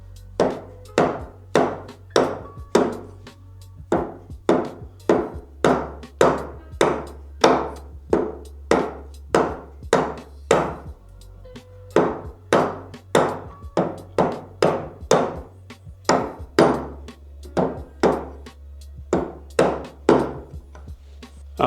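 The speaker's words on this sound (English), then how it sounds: "Oh, this chisel's so awesome." A chisel struck in a steady run of sharp, loud wooden knocks cuts into a wooden cutting board, about thirty close, evenly spaced blows over a low background hum.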